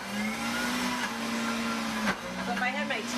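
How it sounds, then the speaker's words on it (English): A deluxe cooking blender runs at high speed, mixing vegetables with lemon and garlic into a dressing, with a loud, steady motor whine and buzz. The pitch dips briefly midway as the load shifts, and faint talk sits under it. "So this is the deluxe cooking blender."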